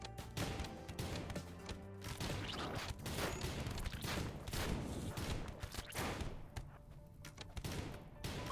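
Gunfire from colonists shooting at imps in the RimWorld video game, a faint rapid fusillade of overlapping shots and thuds that continues steadily throughout, without voices.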